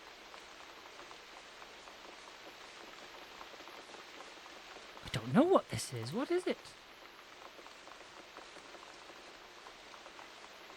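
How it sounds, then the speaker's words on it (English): Steady rain falls in woods, a soft continuous hiss throughout, while a voice briefly speaks over it midway. "Rain in Woods. So that's what that sound is."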